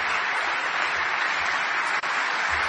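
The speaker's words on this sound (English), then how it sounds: "Give her and everybody like Judy a big round of applause." Dense, steady applause from a crowd at a 2016 political rally in Philadelphia, loud and continuous throughout.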